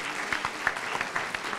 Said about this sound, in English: Another round of applause if you do.